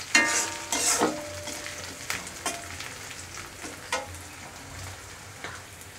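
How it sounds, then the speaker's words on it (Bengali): Garlic and spices sizzle and fry in oil for a mutton curry, with close stirring scrapes and clinks in the first seconds, then a steady quieter sizzle punctuated by occasional utensil taps. "এখন সব কিছু একটু ভেজে নেব ভালোভাবে।"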